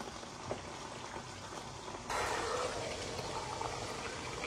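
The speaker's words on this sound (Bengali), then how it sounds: "তেহারির জন্য প্রথমে হচ্ছে পেঁয়াজ বেরেস্তার মধ্যে মাংসগুলোকে একটু ভেজে নিই" Tehari meat fries in a small pot with browned fried onions, a soft, faint bubbling sizzle that grows denser and louder partway through as more goes into the pot.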